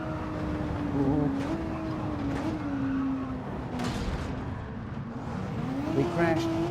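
Racing car engine drones steadily with shifting pitch and tyre squeal during a Gran Turismo 7 online lobby race, ending with a crash, while a person talks over the game sound.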